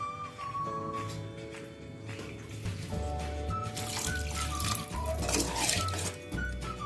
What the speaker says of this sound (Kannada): ನಾನೀಗ 2 ಬೌಲ್ ನೀರು ಹಾಕ್ತೀನಿ